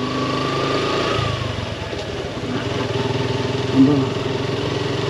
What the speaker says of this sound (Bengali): মোটর সাইকেল কেমন জানি হঠাৎ বিগড়িয়ে গেল, সামনে আর যাচ্ছে না